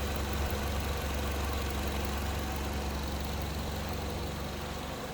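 A 2018 Ford Transit Connect Titanium Passenger LWB with about 57,000 miles idles smoothly and steadily close by, a constant low engine rumble with no one talking.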